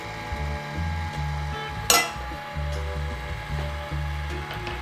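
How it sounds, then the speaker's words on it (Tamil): An EVOCHEF EC Flip dosa machine running, a steady mechanical whirring and ratcheting hum with one brief sharp clack partway through. "ஸோ மெஷின் ரோலிங் ஆக ஆரம்பிச்சிருச்சு."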